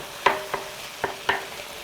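Beef and broccoli in a stir-fry pan give a soft, low sizzle, broken by four light, sharp clacks as the food is stirred.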